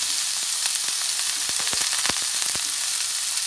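Okra wrapped in pork belly frying in a pan, a continuous close crackling sizzle with sharp spatters and a few clicks as the pieces are turned, no talking.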